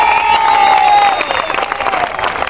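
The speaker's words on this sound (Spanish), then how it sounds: "así que nos merecemos otro aplauso" A loud crowd at an outdoor march for marijuana decriminalization in San Luis claps and cheers, with shouting voices and a whistle-like tone over dense applause.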